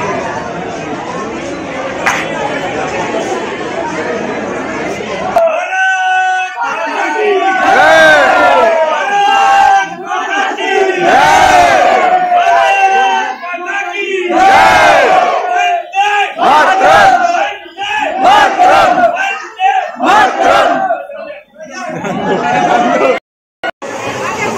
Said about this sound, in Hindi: भीड़ बहुत ज्यादा है हवा महल में।